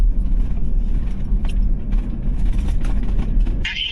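A car merges onto an eastbound highway during a storm chase on a Kansas supercell day with a dust storm, giving a steady, loud low road rumble and engine drone throughout, with a brief higher-pitched noise near the end.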